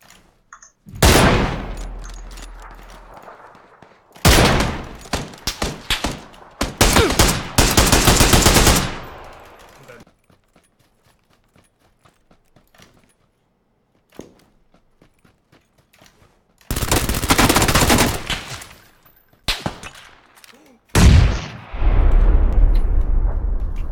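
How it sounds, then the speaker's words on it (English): Bursts of automatic gunfire in the video game PUBG, loud rapid volleys broken by quiet gaps, with a few scattered single shots between them. "He was shooting at another guy."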